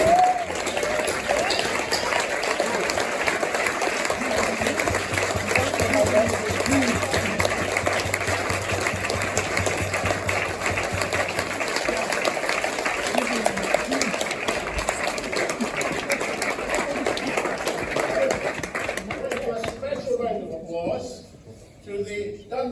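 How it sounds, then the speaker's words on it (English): Sustained applause from an audience at a Burns Supper in Dundee, a dense, steady wash of clapping lasting about twenty seconds before tapering off, with a few voices and cheers mixed in. "everybody else give them a smashing round of applause"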